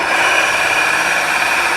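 A power drill runs steadily for a moment on a six-cup turner project, a constant close mechanical whir with no talking.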